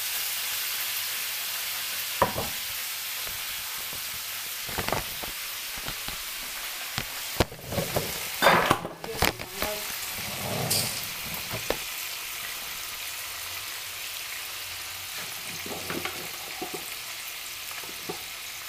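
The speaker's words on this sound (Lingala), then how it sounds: "tokali mazoto toteka kokalinga" Food fries in a pan with a continuous sizzle, broken by several louder bursts of crackling and spattering, likely as the food is stirred or moved around.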